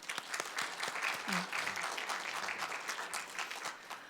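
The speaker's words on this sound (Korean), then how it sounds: "박수 부탁드립니다" Audience applause at a university industry-academia performance forum, steady dense clapping filling the room for about four seconds, with a brief voice murmur partway through.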